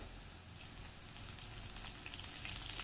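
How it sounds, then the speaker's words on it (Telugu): Curry leaves sizzle and crackle in hot oil in a pan for kanda poha, a steady, soft frying hiss with fine popping that grows slightly louder toward the end. "అయిన తర్వాత నేను కొంచెం కరివేపాకు యాడ్ చేసేస్తున్నాను"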